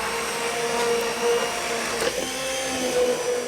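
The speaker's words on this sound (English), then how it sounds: "with a hand blender, puree the soup." Hand blender pureeing a cooked vegetable soup for potage Julienne Darblay, a steady, close, whirring motor drone with a brief shift in pitch partway through.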